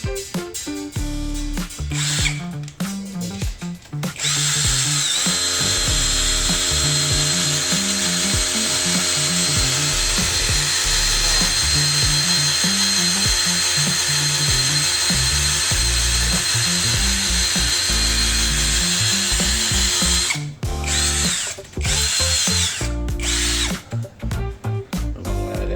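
A Keelat power drill runs close and loud in one long continuous whine lasting about sixteen seconds, with its pitch wavering under load, preceded and followed by short start-stop bursts.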